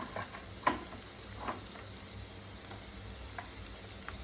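Halved tomatoes, garlic and onion fry in oil with a soft, steady sizzle, broken by a few quiet stirring or placement clicks.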